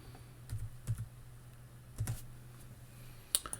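Someone types a password on a computer keyboard, producing small clusters of quiet, crisp key clicks separated by short pauses, with a couple of final taps near the end.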